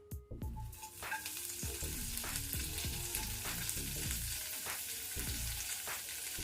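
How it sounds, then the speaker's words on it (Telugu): Chopped coriander leaves fry in a pan, a steady sizzle and crackle with occasional stirring scrapes, heard alone without talk. "ఇప్పుడు ఇదే ప్యాన్లో కొత్తిమీర వేసి వేయించుకోవాలి."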